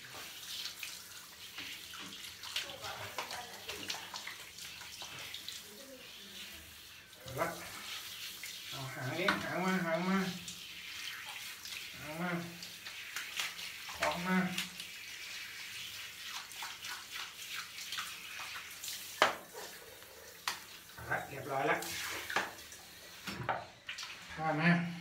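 Running water splashes in a tub while a cat is bathed and washed. The gushing and splashing is moderately loud and uneven, and voices speak intermittently over it.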